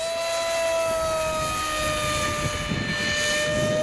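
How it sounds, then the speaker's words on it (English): A small 2206 2400 kV electric motor on an RC glider conversion whines steadily at high pitch, a continuous buzzing tone heard alone and fairly close throughout. "that's a 2400 kV motor, 2206."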